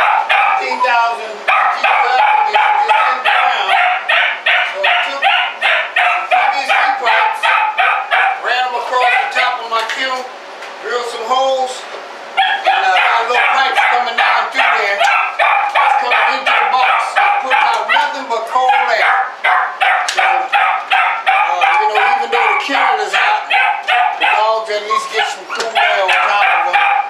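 Dogs crowded into boxes in front of an air conditioner on a hot day bark and yip loudly and almost without pause. The rapid overlapping calls continue throughout, with a short lull partway.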